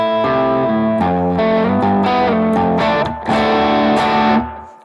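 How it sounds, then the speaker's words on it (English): An electric guitar through a BOSS GT Vox AC30 amp model plays a short run of chords and notes drenched in springy reverb, each strum ringing and splashing into a wet tail. "all we've got is a spring reverb there"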